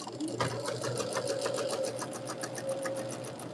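A sewing machine stitches quilt fabric triangles for a pinwheel block, a fast steady rhythmic whirring close by, with someone talking over it.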